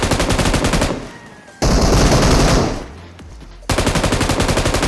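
Loud bursts of rapid automatic gunfire in the mobile battle royale game BGMI, two long sustained volleys separated by a brief lull with a fading tail, close and dominant with no talking.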